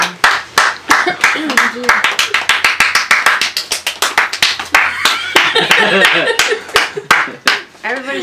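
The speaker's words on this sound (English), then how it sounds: "Everybody start clapping." A group of people clap their hands in quick, crisp, close claps, loosely together but not quite in time, while voices talk and call out over the clapping.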